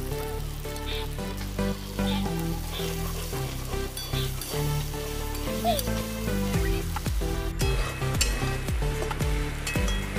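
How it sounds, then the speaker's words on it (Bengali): Steady oily sizzling of soybeans frying in a pan of oil, with occasional stirring scrapes and a brief musical tone underneath, constant and fairly close. "বাকি সয়াবিনগুলো আবার ভেজে নেব"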